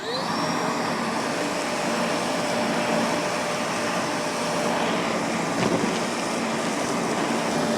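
A Milwaukee M18 FUEL 6-gallon cordless wet/dry vac runs on high speed, giving a loud, steady, airy motor roar with a whining hiss that holds evenly throughout, alone without talk.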